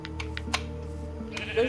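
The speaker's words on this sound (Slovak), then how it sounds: "tu je veľa ovcí" Sheep bleating in the Minecraft video game, a few short bleats over a steady low game hum, with some faint clicking alongside.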